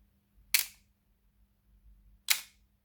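Canon A-1 film camera with its shutter set to bulb, giving two crisp mechanical clicks about 1.7 seconds apart, the release and then the close, near and clear in a quiet room.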